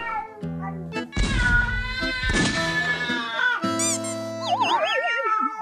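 A domestic cat meows repeatedly and loudly up close, its calls rising and falling in pitch, some drawn out into whining, wavering cries, alone without speech.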